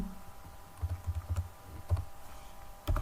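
Keys clatter on a computer keyboard as a class name is typed, in short bursts of quick taps with pauses between, quiet and close.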